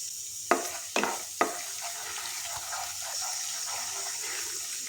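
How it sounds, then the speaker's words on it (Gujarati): Ginger and garlic sautéing in a pan for a green pea ragda, a steady close sizzle with a few sharp spoon clinks at the start, no talking. "આદુ લસણ અહીંયા સતળાઈ રહ્યા છે"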